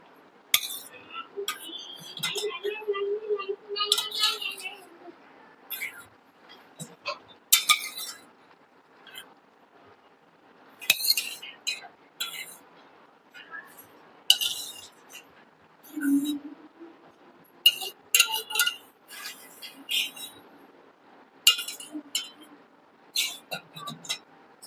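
Chickpeas added to a cooking pan for chole at home, light scattered clinks and clatters of metal utensils against the pan, intermittent and fairly close, with a person talking throughout.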